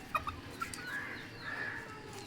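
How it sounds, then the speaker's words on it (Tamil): A few short turkey calls ring out near the start, followed by a longer warbling gobble over a quiet outdoor background; no one speaks. "ஒரு வான்கோழி"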